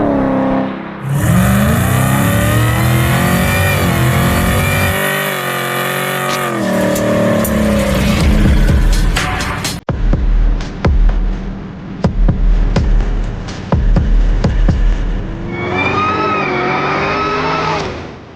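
A 650 hp supercharged LT4 V8 in a 1970 Oldsmobile 442 revs loud and close, rising and falling through accelerations with a supercharger whine, then settles into short throttle blips and a gentler, fading run.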